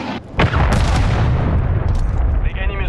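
A cruise missile strike in Call of Duty lands with a sharp booming impact followed by a dense, loud rumble of explosions and gunfire that continues throughout.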